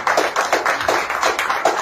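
Applause from the audience at a film teaser launch event: a short burst of steady, fairly loud clapping from a crowd nearby, with no voices over it.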